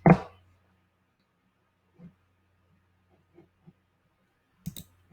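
A few small, dry mouse clicks on a computer, sparse and irregular, with one sharper click at the start and faint taps scattered across a quiet room.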